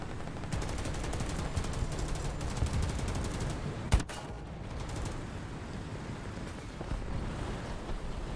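Rapid machine-gun fire rattles steadily in a War Thunder tank battle, with one louder sharp crack partway through over a rumbling engine background.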